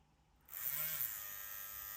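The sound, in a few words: EZ P3 Pro Turbo tattoo pen machine running in power mode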